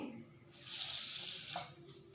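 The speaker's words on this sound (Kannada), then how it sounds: "ಹಾಲು ನೀರು ಕಾಯ್ಕೊಳ್ಳೋ ಅಷ್ಟರೊಳಗಡೆ ಅಕ್ಕಿ ತೊಳೆದು ನೆನೆ ಹಾಕ್ಕೊತೀನಿ" Tap water runs into a kitchen sink as rice is rinsed for sweet pongal. A soft, steady splashing stream starts after a short pause and continues for over a second before easing off.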